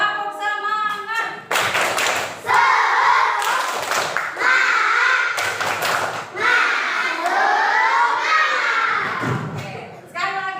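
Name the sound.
schoolchildren doing a rhythmic spirit clap (tepuk semangat)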